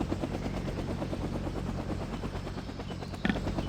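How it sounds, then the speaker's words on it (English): Military helicopters in a Vietnam War video game flying toward a landing zone, a steady rotor chop with dense rhythmic pulsing throughout, mixed with distant gunfire-like bursts and a brief sharp crack near the end. "Now, hopefully, neither of these choppers get shot down under the way."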